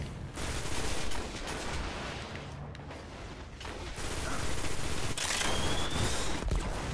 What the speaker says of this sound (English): Wow, that gun is really good.